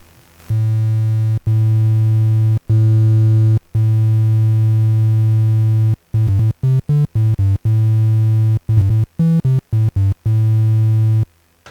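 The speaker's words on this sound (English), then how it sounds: "But sounds like a more distorted sine wave" With a higher operator total level, a Kasser Synths DAFM Genesis YM2612 FM synth sounds a distorted, buzzy sine tone, played as loud sustained low notes broken by short gaps, with bursts of quick staccato notes and slight pitch changes in the middle.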